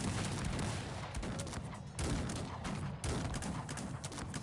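Musket fire from Polish musketeers in the video game Cossacks 3, a dense, continuous crackle of overlapping volleys with periodic louder bursts, faint and distant in the mix with no talk.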